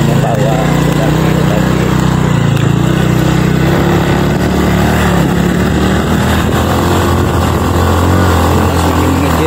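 Motorcycle taxi (ojek) carrying a hiker up a narrow mountain track on Gunung Talang, its engine droning steadily and loudly throughout, with the rider's voice faintly audible over the motor.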